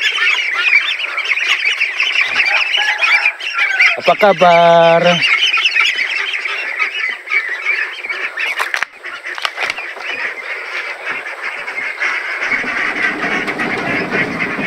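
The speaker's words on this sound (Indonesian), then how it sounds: "inilah anak itik ya" Busy chorus of ducks and ducklings quacking and peeping continuously in a backyard garden in the afternoon, with a brief spoken greeting in the middle.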